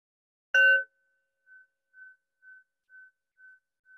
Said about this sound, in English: we'll hear what the bell sounds like